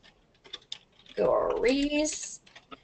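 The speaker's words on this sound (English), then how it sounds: "And I'm having trouble typing." Computer keyboard typing, soft irregular key clicks scattered through the clip, with a louder burst of muffled sound in the middle that partly masks the keys.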